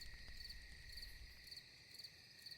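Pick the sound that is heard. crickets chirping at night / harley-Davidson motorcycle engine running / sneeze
crickets chirping at night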